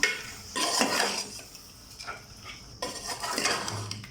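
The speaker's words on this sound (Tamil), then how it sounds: "ஸோ இதெல்லாம் சேர்த்து நல்லா மிக்ஸ் பண்ணிடலாம்." Mutton being mixed with salt and spices in a pot gives several bursts of scraping and clinking utensil strokes against the metal, with quieter pauses between, close and fairly loud.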